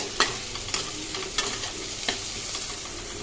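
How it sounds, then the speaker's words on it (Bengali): Finely chopped onions frying in a pan over a low flame, a gentle sizzle under regular scraping strokes of a spoon, roughly one stroke every half second. "পেঁয়াজগুলো খুব কুচি করেই কাটা, যদিও তারপরেও আর একটু ভেঙে দিলাম, খুব তাড়াতাড়ি ভাজা ভাজা হবে এই জন্য"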